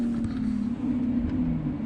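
Simulated sports car engine sound played through the external speaker of a Zeekr X electric SUV, a steady low droning hum at constant pitch with no rev changes, loud and continuous throughout.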